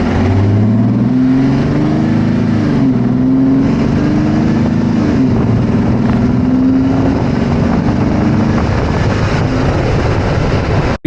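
Jeep Wrangler engine fitted with a cold air intake, recorded close under the hood: a loud, steady drone that rises in pitch as the throttle opens through a turn, then drops, with no talking.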